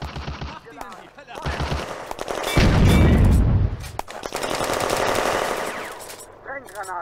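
Bursts of machine gun fire rattle through a WWII Eastern Front video game battle in June 1941, rapid and loud. A heavier explosive roar swells in the middle, and voices are faintly audible between the volleys.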